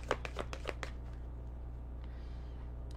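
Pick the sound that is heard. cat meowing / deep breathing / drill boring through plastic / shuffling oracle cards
shuffling oracle cards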